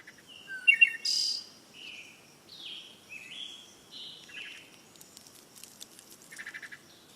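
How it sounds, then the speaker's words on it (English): Several birds chirp and whistle outside a window, short bright calls and trills rising and falling one after another over a soft, steady background hum, with a faint insect-like buzz toward the end. "birds chirping outside your window may indicate normality"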